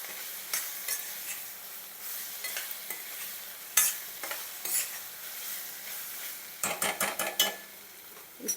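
A spoon stirs amla pulihora with a pinch of salt and turmeric in a pan, giving soft repeated scraping and light sizzling, with a few sharper clinks of utensil against the pan near the end.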